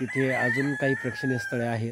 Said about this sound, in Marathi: आणि कोंबड्याचा आरवल्याचा आवाज पुन्हा येतोय बघा.